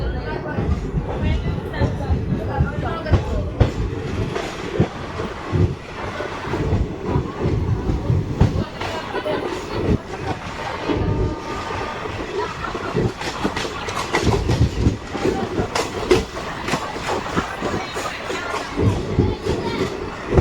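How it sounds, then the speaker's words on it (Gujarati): A Bhavnagar–Veraval passenger train accelerates out of Vadal station, rumbling steadily along the rails with rhythmic clatter and continuous loud noise, with voices faintly mixed in throughout. "અને ટ્રેને થોડુંક એક્સિલેટર પણ કરી લીધું છે"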